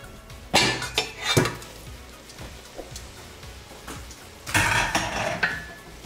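Buttered garlic noodles with Parmesan and parsley are stirred in a pan, giving two bursts of scraping and clinking with quieter clatter between them.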